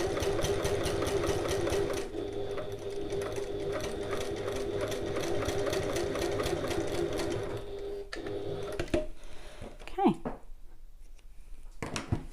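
A domestic sewing machine runs in a rapid, even chatter stitching up the raw edge of a passport folio pocket, then stops, leaving quiet handling clicks and fabric rustle.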